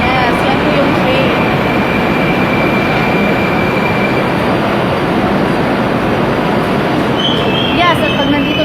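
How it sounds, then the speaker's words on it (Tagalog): Moscow Metro underground train arriving at a station platform, a loud continuous rumbling roar with a brief high wheel squeal near the end, a voice faintly beneath. "Yes, yan po yung train."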